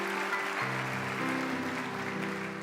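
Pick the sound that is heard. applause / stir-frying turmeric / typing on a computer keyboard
applause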